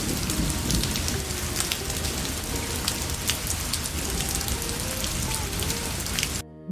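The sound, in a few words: heavy rain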